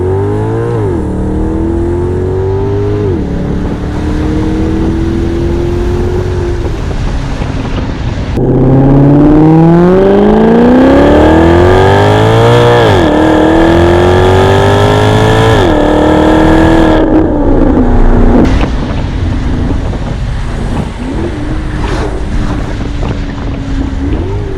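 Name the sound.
wind noise in Maserati GranTurismo convertible driving top down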